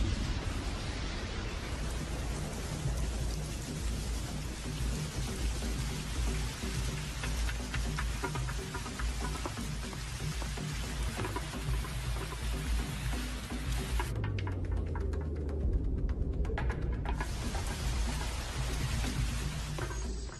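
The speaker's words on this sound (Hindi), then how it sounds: "अमेज़न में तकरीबन रोज ही बारिश होती है" Steady heavy rainfall hisses continuously in the Amazon rainforest, dense and close, with a brief low rumble partway through.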